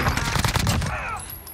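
Rapid bursts of gunfire in the Warzone video game, PPSh submachine gun fights around a building: a dense, loud string of shots that breaks off and leaves a short, quieter tail.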